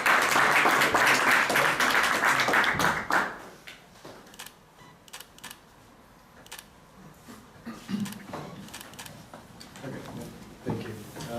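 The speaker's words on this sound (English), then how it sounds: "An applause." Audience applause at an air transport awards ceremony opens loud and dense, then fades after a few seconds into scattered individual claps and quiet room noise.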